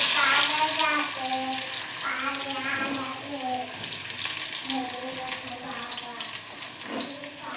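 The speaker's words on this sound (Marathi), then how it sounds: "कांदा मस्त फ्राय करून घ्यायचा आहे, थोडा फ्राय होऊ द्यायचा मस्त असा." Onion frying in a hot pan with mustard seeds and cumin, a steady broadband sizzle running throughout, with a voice talking over it.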